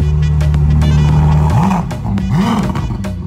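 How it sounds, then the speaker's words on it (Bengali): Supercar engine roars loud and close in a sustained, deep drone, then revs twice in quick rising-and-falling sweeps. "গাড়িটির ইঞ্জিনের আওয়াজ"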